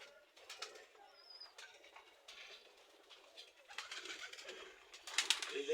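Giribaj pigeons coo softly and intermittently through a busy stretch with other birds chirping, the calls growing a little louder and more crowded toward the end.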